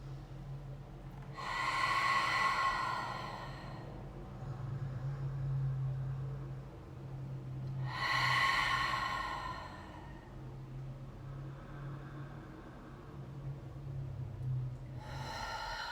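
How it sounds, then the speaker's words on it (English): Slow, deep yoga breaths are heard close up, with long airy inhales and exhales arriving in three broad swells several seconds apart over a quiet, steady background. "nice deep inhales and exhales"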